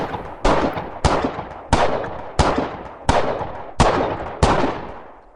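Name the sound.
gunshots sound effect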